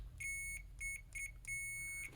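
A high, thin electronic beep from a multimeter's continuity tester sounds in several irregular bursts, some short and some held, over a low hum.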